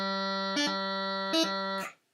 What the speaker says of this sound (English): then I make the high G Gracenote, the D, and then the E, all while keeping my fingers on the chanter to sound the low G